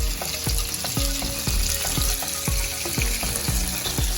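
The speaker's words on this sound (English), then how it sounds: "I'm just going to add my 2 cans of green beans" Drained canned green beans frying in hot oil with onions in a home kitchen, a steady close sizzle with repeated sharp scraping stirs about every half second.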